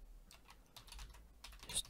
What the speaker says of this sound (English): So just type distance here.